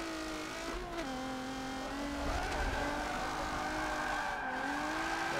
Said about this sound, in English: And we're still drifting without a handbrake